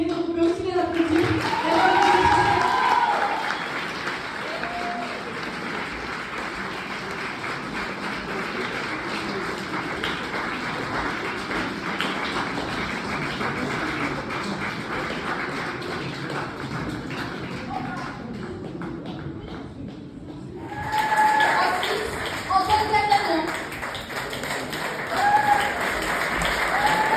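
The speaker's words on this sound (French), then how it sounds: "on peut aussi les applaudir" An audience at a talent show applauds the models who walked the runway, sustained clapping that eases off midway and then swells again near the end.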